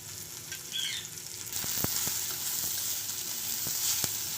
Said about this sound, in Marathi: तेल घालून झालेलं आहे आणि आता याला गुलाबी रंग येईपर्यंत भाजून घ्यायचा आहे कांदा।